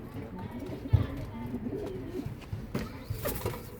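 Low, soft pigeon coos sound close by in a pigeon coop over a rustling background, with a few faint chirps mixed in.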